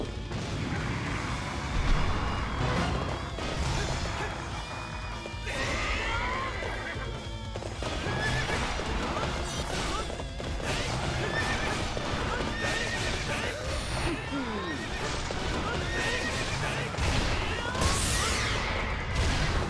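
Horses in the Hyrule Warriors video game neighing and whinnying loudly over galloping hoof clatter, mixed with battle crashes and thuds in a busy, dense game soundtrack.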